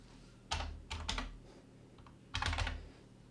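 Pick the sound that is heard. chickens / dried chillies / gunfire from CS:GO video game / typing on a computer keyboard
typing on a computer keyboard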